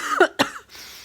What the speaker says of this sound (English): sorry guys, I've got a cough.